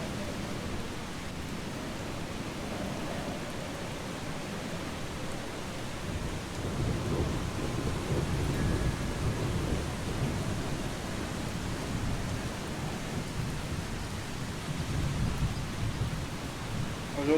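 Steady rain with low rumbling thunder in the video game Eastshade, a continuous noisy wash that swells louder after a few seconds and holds, with no talk over it.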